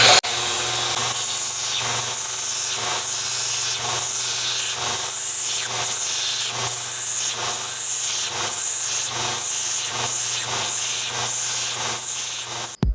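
Forged hammer head being ground on a 120 grit belt grinder, a loud close rasping hiss over a steady motor hum, pulsing in regular strokes as the steel is pressed and lifted, with no one talking.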